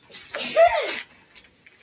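A single sharp human sneeze bursts out up close during a walk around an old house's yard, brief and loud, followed by faint shuffling.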